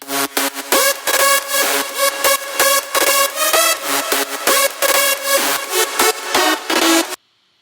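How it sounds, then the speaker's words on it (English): A plucky synth melody moves in quick, rhythmic notes, bouncing steadily for several seconds before stopping abruptly, with no voices. "they actually came with a really cool moving melody which keeps attention"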